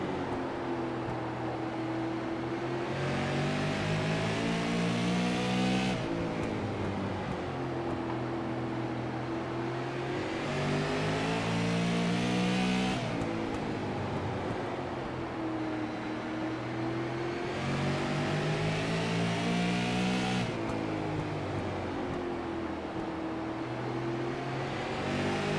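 Super late model race cars circling the track at Southern National Motorsports Park, loud continuous engine roar with repeated rising and falling passes as the pack laps, no talk.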